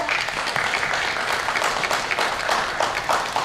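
Dense, steady audience applause for a speaker at a community advocacy gathering, a continuous wash of many hands clapping at close range throughout.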